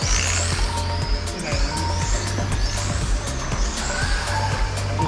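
Touring cars race around a track in a continuous loud engine roar, with shifting pitch as cars pass and brief tire squeals, steady throughout with no talk.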